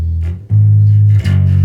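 Distorted bass guitar plays the bass line of a song, three sustained low notes in a row, loud and close with no talking.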